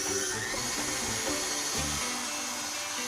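Stand mixer with a whisk attachment whipping egg whites and sugar for tiramisu, a close, steady motor whir with rhythmic churning throughout.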